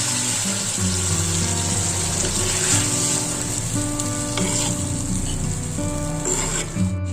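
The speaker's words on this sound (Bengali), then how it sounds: "পানি দিয়ে দেবো" Water poured into a pan of hilsa fish cooked in mustard paste, with loud, steady sizzling and bubbling that runs on unbroken for several seconds, alone and without talk.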